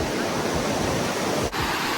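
Sea waves wash onto the Konkan shore at Malvan in a cool wind, a steady broadband roar of surf and air with one brief dip in loudness.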